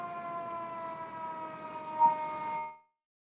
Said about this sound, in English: We're about to get an ambulance.